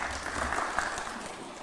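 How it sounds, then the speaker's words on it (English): An audience at a State House swearing-in ceremony for new military leadership applauds the President, a brief steady wash of clapping heard at moderate distance. "Another round of applause for His Excellency"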